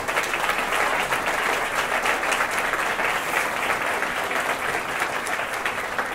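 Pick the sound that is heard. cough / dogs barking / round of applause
round of applause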